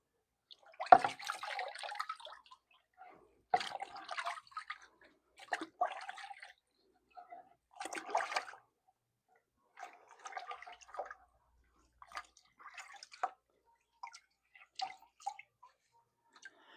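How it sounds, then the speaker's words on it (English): Water running and splashing in short bursts as a wooden rifle stock being refinished is rinsed off, several spurts of splashing separated by brief pauses. "So I will go ahead and rinse this bad boy off."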